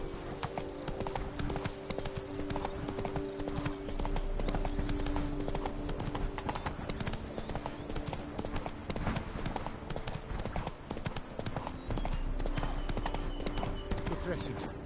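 Roach, the horse in The Witcher 3, trots with steady, even clip-clop hoofbeats close by, while someone talks over them and music plays underneath.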